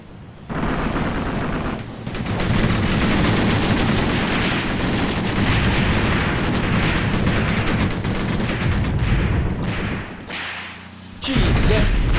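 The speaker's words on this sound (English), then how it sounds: "So they call in some heavy artillery over here." A heavy artillery barrage in the WWII tactics game Graviteam Tactics, a sustained roar of thudding impacts and rumbling explosions lasting many seconds, briefly easing before erupting again.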